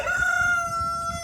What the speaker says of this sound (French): donc ici le coq, perdrix maillé doré, qui est juste ici